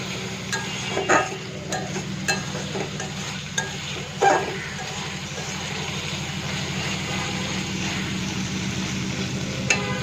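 Masala being sautéed for a prawn malai curry gives a steady sizzle under a low hum, broken by several spatula scrapes and clinks against the pan, close by and without talking.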